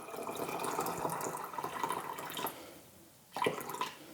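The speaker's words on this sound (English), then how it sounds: "then we're just gonna top it off with water" Water poured into a jar of beans being topped off for canning, a steady close splashing trickle that briefly stops and then resumes, with no talking.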